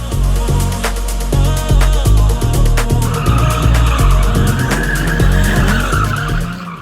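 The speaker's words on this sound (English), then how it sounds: "I was met with engines revving, burnouts everywhere, and people screaming like it was a concert" Tires screech and skid through burnouts at the Torq 2025 car show, with revving engines roaring loud and continuous over a dense, chaotic crowd backdrop.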